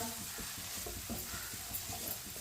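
Whole spices, including coriander seeds, frying gently in a pan on low heat, a soft steady sizzle with faint stirring scrapes, no voices.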